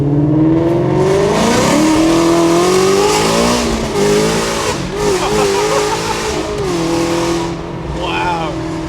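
A Shelby GT350 accelerating hard, its engine note climbing and dropping through gear changes, loud and close from inside the car with people talking over it.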